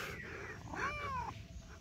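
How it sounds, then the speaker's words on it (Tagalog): A cat on a grassy farm gives a single clear meow, a rising then falling tone lasting under a second, close and moderately loud over a low steady background hum. "Bagong nagpunta rito yung pusa."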